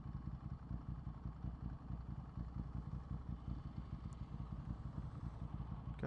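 Ducati Hypermotard 796 motorcycle being ridden, a steady low engine drone with rhythmic pulsing throughout, close and continuous with no talking.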